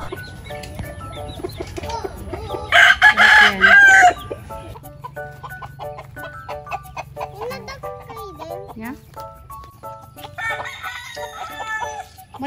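Crossbred chickens on a farm in summertime, a rooster crowing loudly up close followed by scattered clucks and calls from the flock, with people talking briefly now and then.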